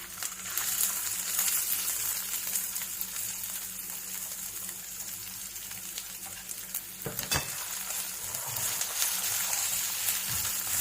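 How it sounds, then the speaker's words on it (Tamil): Ginger frying in hot oil in a kadai gives a steady, close sizzle with a spattering crackle that holds throughout, broken by a brief scrape or stir partway through. "இப்போ கடாயில் கொஞ்சம் ஆயில் விட்டு நான் ஃபர்ஸ்ட் இஞ்சியை வறுத்தெடுக்கிறேன்"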